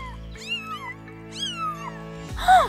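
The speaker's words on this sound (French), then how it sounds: "Il y a des chats quelque part." Two cat meows, each drawn out and rising then falling, over a steady background hum, followed by a brief louder clatter at the end.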